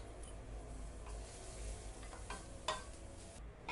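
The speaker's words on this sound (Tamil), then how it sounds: "அப்படியே நம்ம தேங்காய் 1/4 மூடி தேங்காயும் போட்டு நல்லா ஃப்ரை பண்ணிக்கலாம்." Cardamom and grated coconut frying in a pan while being stirred, heard as a quiet, steady sizzle with a few sharp scraping ticks from the spoon, fairly faint and close.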